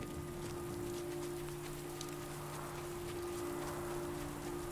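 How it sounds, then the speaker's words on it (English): Steady rain in the video game Last Day of June, a soft continuous hiss of drops on surfaces with a low constant hum beneath, no talking. "Damn rain."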